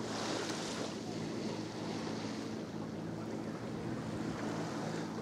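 Sea surf washing onto a small stone-sheltered beach in Salou, Spain, a steady broadband wash of waves with some wind noise across the microphone, continuous and fairly loud with no talk.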